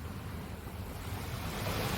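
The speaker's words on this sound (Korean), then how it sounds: "이 파도 소리가 100만 불짜리 아닙니까, 사실? 한번 들어보세요." Ocean waves breaking on a shore at dawn beside a pool, a steady rushing surf with low rumbling swells and some wind noise, continuous and fairly close, no voices.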